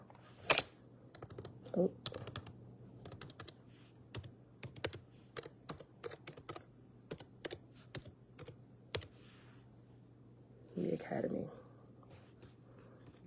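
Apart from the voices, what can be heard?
typing a web address on a computer keyboard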